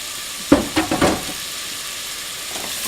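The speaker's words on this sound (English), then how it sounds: "I'm going to go and add my chopped onions" Chopped onions and garlic frying in a pan for a potato curry, a continuous soft sizzle with a few quick scraping stirs clustered near the start.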